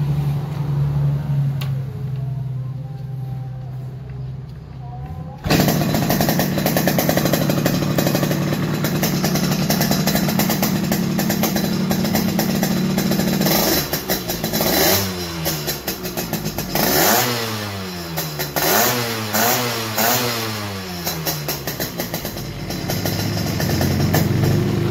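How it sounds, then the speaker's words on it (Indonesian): Yamaha RX King motorcycle, a 1994 two-stroke, running close by with a rough buzzing idle that jumps louder and then rises and falls through several quick revving bursts. "Yamaha RX King."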